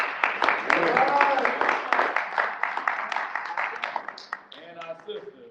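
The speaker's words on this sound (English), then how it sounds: "Let's go ahead and give a round of applause for Miss Ella Green Moses." An audience at a Kwanzaa gathering applauds in a dense, sustained patter of clapping that gradually tapers off, with a few voices rising over it near the end.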